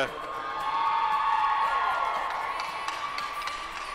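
Crowd at a college baseball game between Missouri State and Illinois State cheering and whooping for a player, a sustained bright roar with scattered clapping, fairly distant and steady.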